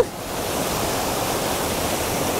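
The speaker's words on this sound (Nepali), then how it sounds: "यो चाहिँ यो खोलो तर्दैछु, खोलो तर्न सकिएको छैन, यस्तो स्पिडमा आएको खोलो।" A fast-flowing stream in a forest near a Nepali village, with rushing water making a steady, loud broadband roar from start to finish and no voices.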